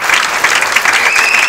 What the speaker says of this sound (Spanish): un aplauso para el director que está aquí presente